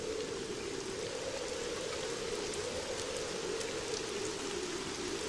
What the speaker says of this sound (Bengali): আর বৃষ্টি থামবার তো কোনো নামই নেই।